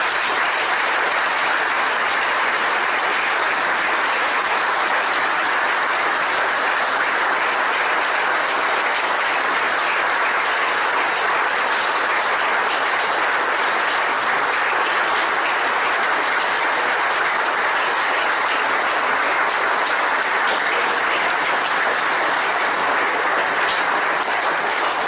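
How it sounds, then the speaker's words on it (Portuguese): A large audience gives a sustained round of applause as a man is honoured. The clapping is loud, dense and continuous throughout, with no break. "uma grande salva de palmas"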